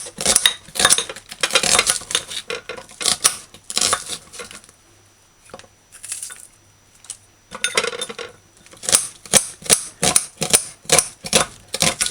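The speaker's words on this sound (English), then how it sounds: "Slice the garlic" A kitchen knife slicing garlic on a flat cutting surface while preparing curried steamed fish: rapid, crisp chopping taps in close bursts, pausing briefly midway before resuming.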